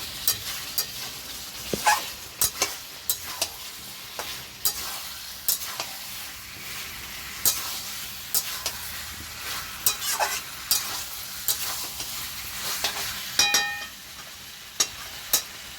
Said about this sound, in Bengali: এই সময় আমি একটু মশলা ধোয়া জলটা দিয়ে দেব। দিয়ে একটু ভালো করে নাড়বো।